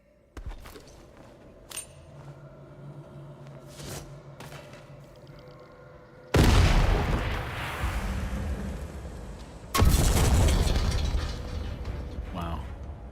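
Loud grenade blasts in the video game Atomfall, two booming bursts a few seconds apart, each followed by a rumbling decay, over a quieter stretch of clanking game mechanisms.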